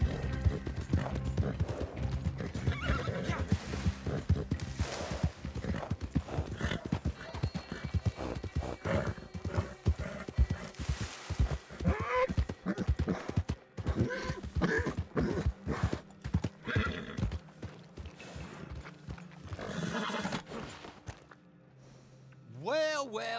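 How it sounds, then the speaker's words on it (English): Horse hooves clip-clop steadily and a horse neighs in the Western video game Red Dead Online, with voices talking over the hoofbeats and a game score playing underneath. "Get that horse hidden away, Clive,"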